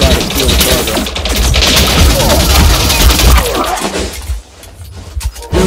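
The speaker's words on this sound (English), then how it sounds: "I'm just kind of gunning down enemies as fast as I can figure out how to" Rapid gunfire and crashing impacts rattle through a hectic on-foot firefight in Elite Dangerous Odyssey, loud and dense for several seconds before thinning into scattered shots, with a voice talking over parts of it.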